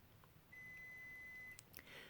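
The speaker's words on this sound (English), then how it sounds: "Now, I hear my timer going off" A kitchen timer goes off with a thin, steady electronic tone held for about a second, followed by a couple of short chirps, faint against a quiet room.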